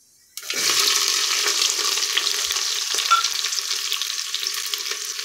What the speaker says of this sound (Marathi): कांदे आपल्याला छान परतून घ्यायचे आहेत, अगदी गोल्डन ब्राउन होईपर्यंत मीडियम गॅसवरती परतून घ्यायचे आहेत।